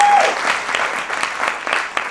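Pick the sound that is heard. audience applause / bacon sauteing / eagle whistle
audience applause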